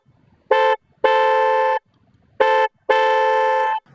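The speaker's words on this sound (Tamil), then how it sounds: "ஹாரனோட சவுண்டை நீங்கள் கேட்டு தெரிஞ்சுக்கலாம்." A newly upgraded horn on a Mahindra XUV500 honking four times, two short toots then longer blasts, loud, close and tonal with no talk.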